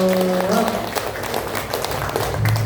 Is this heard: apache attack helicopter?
no